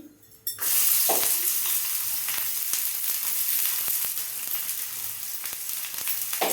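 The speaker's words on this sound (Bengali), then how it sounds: "দিয়ে দেবো পেঁয়াজ কুচি" Chopped onions hit hot oil in a pan with a sudden loud burst of frying after a brief quiet moment, settling into a dense, steady close sizzle that lasts to the end, with no talking.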